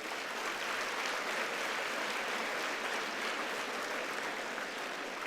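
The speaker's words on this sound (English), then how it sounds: "A big round of applause." A large audience of accounting students at a conference hall gives a big round of applause, a uniform, distant-sounding wash of many hands clapping steadily without pause.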